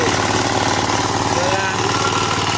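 A power tiller engine chugs steadily up close while ploughing a field, a continuous rough mechanical rumble with a fast, even pulse throughout.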